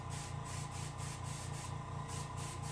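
An airbrush sprays paint onto a rainbow trout taxidermy mount in a continuous soft hiss, pulsing in short regular passes as the stroke moves back and forth, fairly quiet and close.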